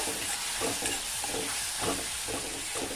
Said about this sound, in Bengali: সমস্ত উপকরণ ভালোভাবে নেড়ে ফেড়ে মিশিয়ে নেব